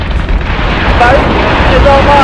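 Ship weapons in Battlestar Galactica Deadlock fire in a continuous low rumbling roar of explosions and bursts, loud and steady throughout with faint whistling tones above.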